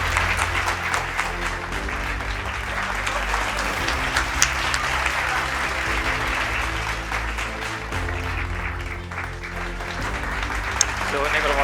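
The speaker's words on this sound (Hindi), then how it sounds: "तो पहले सिद्धार्थ सर के लिए तालियां हो जाए" A large audience at a felicitation and success party for bankers claps steadily and densely throughout, a continuous close wash of applause without a break.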